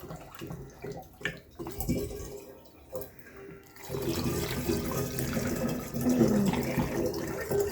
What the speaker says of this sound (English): I'm going to add in some of our water.